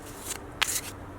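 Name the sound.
shuffling oracle deck cards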